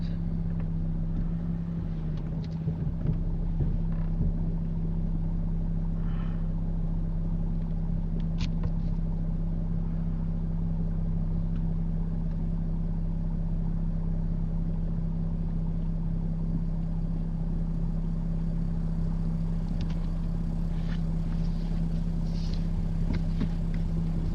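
Steady low engine rumble and road hum fill a moving car's cabin as it drives back toward a bay, constant and fairly loud throughout with no voices.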